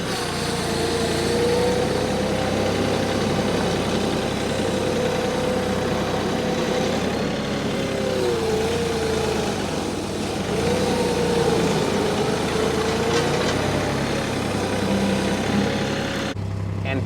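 A Kubota UTV engine idles steadily nearby, a continuous low rumble with a faint wavering tone that holds even for about seventeen seconds before a brief change at the end.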